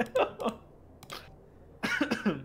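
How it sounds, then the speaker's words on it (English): A person coughs several times in short, close, sharp bursts, with brief pauses between them and a final cluster of coughs at the end. "Did not mean to cough like that."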